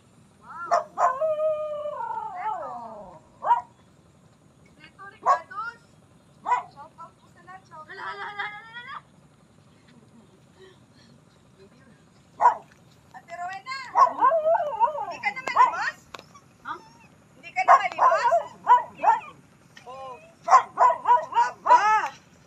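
A dog barks and yips in scattered bursts. It starts with a drawn-out howling whine, then gives sharp clustered barks after quiet gaps, fairly close and clear with no talk over it.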